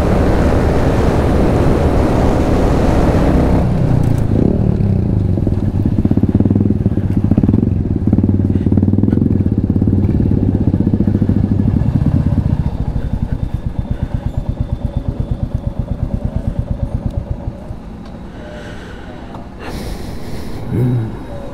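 A Royal Enfield Bullet motorcycle on a night ride, its low thumping engine loud and continuous for about twelve seconds, then dropping to a quieter, steadier drone and tapering off.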